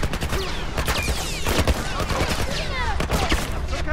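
Military turret gunfire in The Last of Us, rapid bursts of shots cracking repeatedly over a dense, noisy battle backdrop for several seconds.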